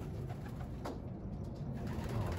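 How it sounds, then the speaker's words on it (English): A white racing pigeon coos softly at a distance, its low murmur partly buried in steady background noise. "it looks like we got one of the white racing pigeons right here"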